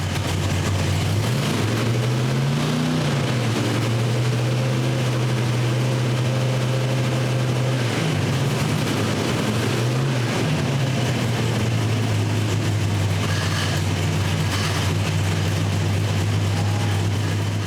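A car engine fitted with a 3D-printed plastic intake manifold idles low, is revved up around the second and eighth seconds, then settles back into a steady, close idle drone with no talking.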